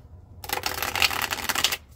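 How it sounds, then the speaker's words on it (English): A quick riffle shuffle of a tarot deck, a dense crisp flutter of card edges lasting about a second and a half, close and fairly loud. "riffle shuffle"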